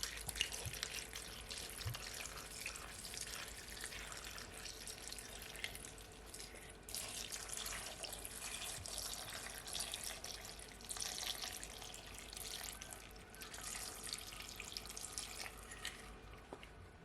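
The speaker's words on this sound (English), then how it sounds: "Now I'm adding my red label wine now." Red label wine steadily poured over dried fruits for a Jamaican fruit cake, a soft continuous trickling and splashing of liquid with no talk.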